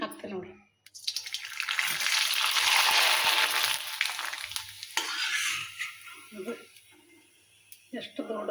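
Rava happala hits hot oil with a loud, bubbling sizzle that surges and then gradually fades over several seconds, while a voice speaks intermittently nearby.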